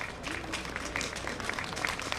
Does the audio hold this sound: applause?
yes